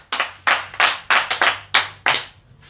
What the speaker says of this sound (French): Acclamons encore Jésus.